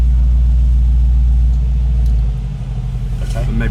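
A 2019 Mercedes G63 V8 in sport mode revs with a deep, loud rumble that holds steady and then eases off, heard from inside the car with people talking over it.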